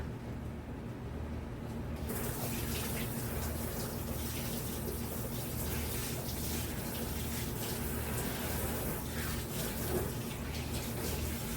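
Hands are washed under a running tap after handling biscuit dough, a steady gushing stream that grows fuller after a couple of seconds and continues evenly, close by.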